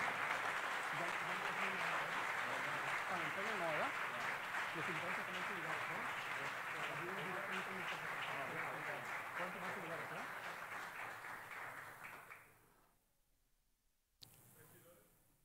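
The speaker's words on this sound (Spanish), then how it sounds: "Fuertes aplausos, por favor." Loud applause from an audience at a municipal ceremony in Colima, sustained and even for about twelve seconds before fading out quickly, followed by near silence and a brief bump of room noise.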